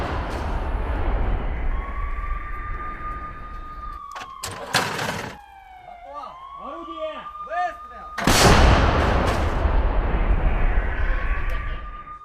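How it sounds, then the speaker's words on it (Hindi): Howitzer artillery fire in a Ukraine–Russia combat setting, with loud blasts and sharp reports standing out against a steady rumbling background, plus a siren-like tone drifting through. "यहां होवित्जर से किस तरीके से हमला किया गया उसका वीडियो आपके सामने है।"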